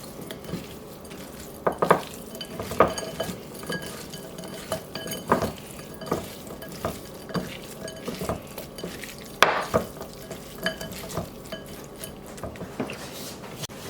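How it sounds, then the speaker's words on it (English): A utensil scrapes and knocks around a pan while mixing seasoned food, giving irregular clinks and scrapes every second or so over a soft sizzle, close and fairly loud, with no talking. "I'll give that a good mix. Make sure everybody gets coated in the seasonings."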